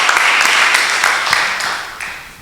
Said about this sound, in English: can you please give a good round of applause to our amazing panelists, very amazing panelists